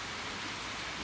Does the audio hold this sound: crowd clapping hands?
no